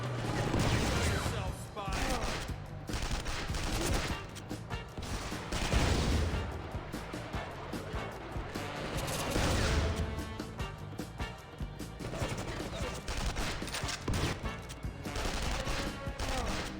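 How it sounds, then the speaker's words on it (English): Dense video-game gunfire from a spy-themed shooter, with rapid bursts and volleys crackling almost nonstop at close range, overlaid by game character voices shouting. "Gunfire. Look alive. Under attack."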